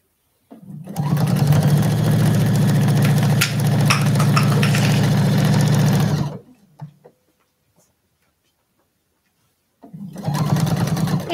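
A sewing machine runs steadily for several seconds, stitching a couple of back stitches on a quilt's binding, then stops, falls quiet and starts humming again; the motor sounds loud and close.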